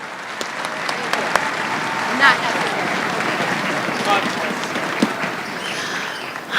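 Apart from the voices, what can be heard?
audience applause at a school strings concert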